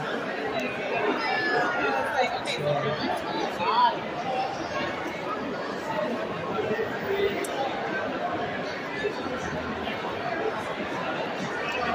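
Crowd din at the WonderCon 2024 convention on a Saturday night, a constant murmur of many overlapping voices and footsteps filling a busy indoor hall, with nearby people talking throughout.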